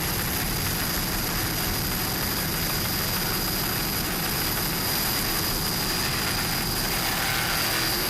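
A 38-foot Fountain powerboat with racing engines roars steadily at full throttle during a Class 2 offshore race, a dense, loud, continuous broadband engine drone with no voices on top.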